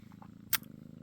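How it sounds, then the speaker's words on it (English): A kitten purrs softly and steadily up close in a quiet indoor room, its low rhythmic rumble continuous throughout, broken once by a brief sharp click. "this is my babyest kitten"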